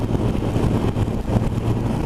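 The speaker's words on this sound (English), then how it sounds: "this beautifully smooth engine that is tuned for low and mid-range torque" A motorcycle engine tuned for low and mid-range torque cruises steadily at 60 mph around 4,000 revs, a smooth continuous drone blended with heavy wind rush across the whole stretch.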